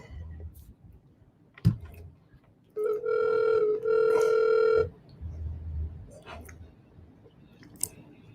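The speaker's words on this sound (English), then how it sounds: "Sunflower Power, call in" A phone line rings for an incoming caller on a call-in talk show, a single steady electronic ring tone lasting about two seconds, preceded by a sharp click and surrounded by faint background murmur.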